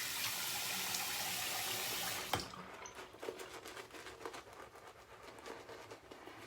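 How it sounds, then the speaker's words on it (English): Water at a bathroom sink during a shave: a steady running-tap hiss gives way to soft splashes and drips as water is scooped up in cupped hands, quiet and close. "I'm just grabbing water in my hands like that, just picking up some water"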